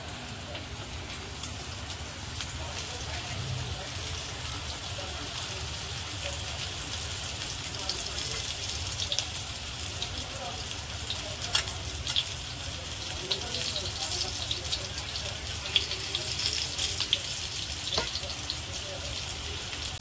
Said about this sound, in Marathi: आता हे सगळे मी पीस पॅन मध्ये लावून झालेले आहेत